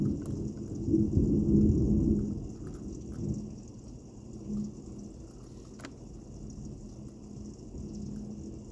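Thunder rolls through a thunderstorm as a deep, loud rumble that swells early and then fades into a softer, lingering grumble over steady rain, with no voices.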